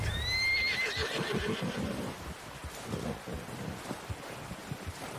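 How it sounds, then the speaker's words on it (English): In Red Dead Redemption 2, a horse gives a loud whinny at the start, followed by soft clip-clop hoofbeats and light wind, with no talking. "outro cavalo, né? Bora. Cavalo bonito."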